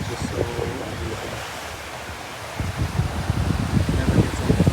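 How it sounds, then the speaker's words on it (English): Ocean surf along Ocean Path in Acadia, next to Park Loop Road: a steady wash of waves with wind buffeting the microphone, swelling louder in the second half, with no talking. "This is the big ocean."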